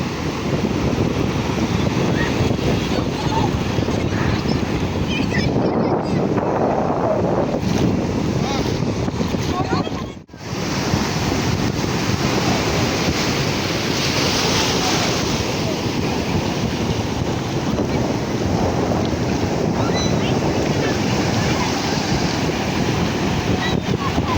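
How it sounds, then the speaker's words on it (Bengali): Loud, continuous roar of sea surf at Puri beach with wind buffeting the microphone, steady throughout with one brief dropout near the middle. "তো চলুন তো আপনাদেরকেও সমুদ্রের গর্জনটা শোনাই"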